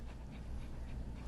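A puppy softly whimpers and pants while its fur is being clipped, faint and close over a low steady background hum.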